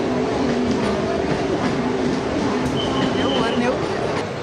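A crowded Mumbai suburban local train rolls along near Kurla with a steady rumble, rattling carriages and a brief high wheel squeal, while crowd voices murmur underneath.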